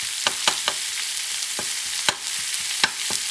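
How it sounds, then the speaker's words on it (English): Garlic frying in a pot for Puerto Rican rice with pork ribs crackles in a loud, continuous sizzle, broken by several crisp scrapes and taps of a spoon stirring against the metal. "I'm going to mix this for a few seconds because you don't want the garlic to burn"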